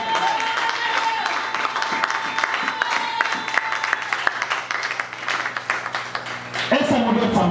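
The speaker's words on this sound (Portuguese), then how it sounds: "Palmas para a glória de Deus." Congregation at a church service applauding together, a dense roomful of clapping with some cheering voices mixed in, fairly loud and steady, with a sustained tone running beneath it for the first few seconds.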